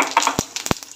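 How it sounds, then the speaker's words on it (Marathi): Cumin seeds dropped into hot oil in a pan for a sprouted green moong bhaji give a close, crackling sizzle, with a few sharp pops over the hiss. "तेल गरम झालेलं आहे, जिरं टाकून घेऊ,"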